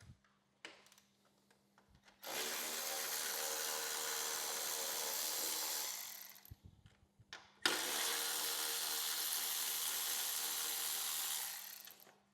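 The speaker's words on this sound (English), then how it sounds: "These Milwaukee battery ratchets make that a breeze." A Milwaukee cordless battery ratchet runs in two long sustained whirring bursts, close and loud, removing 13mm bolts from the gas tank of a 2015-2021 Harley CVO Road Glide, with a brief pause between runs.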